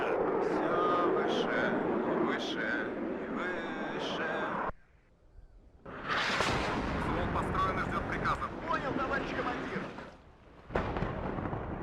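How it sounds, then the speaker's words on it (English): Heavy artillery fire in the Wargame strategy game: loud, dense booming blasts and rumbling impacts fill the scene almost continuously, with a brief lull midway before the barrage resumes. "That artillery is pretty scary."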